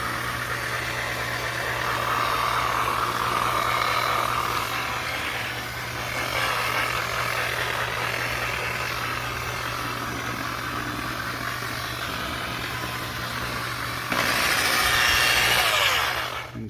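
A polishing buffer on its low setting buffs a yellowed headlight lens with a steady motorized hum and whir. The whir swells slightly in places and grows brighter and louder near the end.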